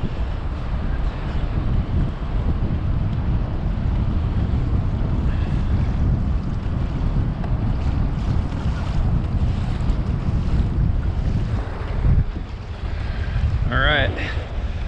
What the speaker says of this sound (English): it's just the wind is going to be a little bit of a nuisance